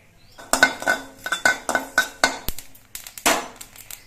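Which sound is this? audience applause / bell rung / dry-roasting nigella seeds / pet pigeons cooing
dry-roasting nigella seeds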